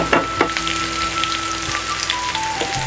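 Crushed ginger and garlic hit hot oil and crackle loudly, with a few sharp spits at the start settling into a dense, even sizzle close by. A faint tonal whine runs underneath.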